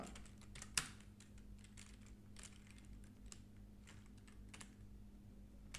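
A computer keyboard is used to type JavaScript code, giving soft, uneven key clicks in short bursts with one sharper tap near the start, faint and close, with no voices.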